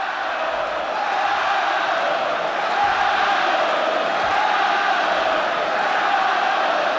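The stadium crowd at the 2024 French Open men's final between Carlos Alcaraz and Alexander Zverev, a broad, steady roar of many voices singing together in a sustained swelling chant that fills the arena.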